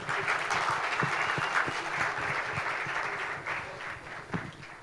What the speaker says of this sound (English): Can we please give her a huge round of applause?